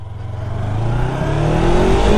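2019 Yamaha R3 motorcycle engine under way, a loud, close buzzing note rising steadily in pitch as it accelerates, with no talk over it.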